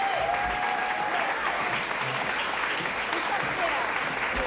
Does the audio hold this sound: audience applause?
yes